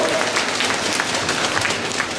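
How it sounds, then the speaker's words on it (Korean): A school entrance ceremony audience claps for a teacher being introduced, a dense continuous patter of many hands heard from a slight distance, even in level and unbroken, with no voices over it. "박수 부탁드립니다."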